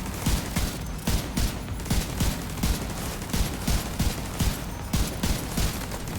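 Repeated shotgun blasts in The Division 2 come in a steady series of sharp bursts about every half second, loud and close, over a dense background of game noise.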